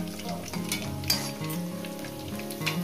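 Potatoes fry in a pan with a steady, close sizzle and crackle of hot oil, mixed with faint clinks of a utensil stirring.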